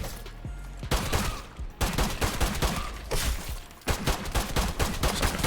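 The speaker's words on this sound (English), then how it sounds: "Freeze grenade." Rapid bursts of video game gunfire and explosive blasts from a freeze grenade going off, with dense repeated crackling shots continuing throughout, loud and close.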